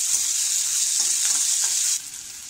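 Chopped tomato sautéing with onion in an oiled pan while making Maharashtrian fried rice. A steady, close sizzle hisses throughout and eases slightly toward the end, with no voices.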